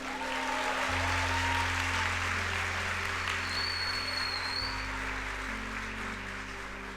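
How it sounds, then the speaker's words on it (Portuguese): Congregation in a church service clapping in a sustained round of applause, steady and dense throughout, with a low hum underneath and no one speaking. "a gente recebê-los com uma salva de palmas"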